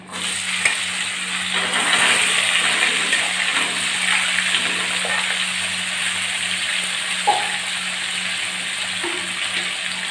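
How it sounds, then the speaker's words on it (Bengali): Jackfruit seeds and potato pieces frying in oil in a pan, a continuous hissing sizzle with occasional stirring clinks, close and fairly loud, no talking. "এবার আমি কাঁঠালের দানা আর আলুগুলো ভালো করে ভেজে নেব দিয়ে দিলাম"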